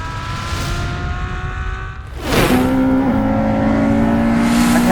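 A Ferrari F12 engine roars loudly on a race track, a high revving whine climbing as it accelerates past, with a sharp burst of noise midway.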